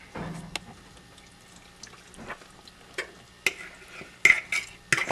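Wet ingredients for vegan cupcake batter poured into a bowl, with a brief liquid splash and then scattered soft clinks and scrapes of a utensil against the bowl, close and fairly quiet.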